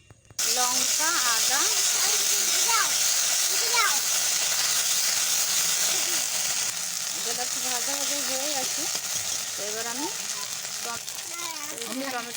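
Black cumin and spice paste sizzle in hot oil for a Bengali pabda fish curry, a steady bright hiss of frying that carries throughout while someone talks over it.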